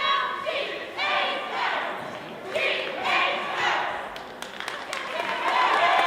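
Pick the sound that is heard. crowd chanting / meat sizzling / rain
crowd chanting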